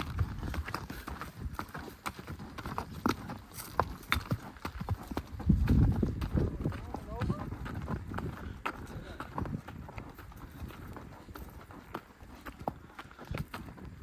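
Several horses ridden along a ranch fence line during a cattle drive, hooves clip-clopping in a steady, uneven walking rhythm close by, with rustling and some faint voices mixed in.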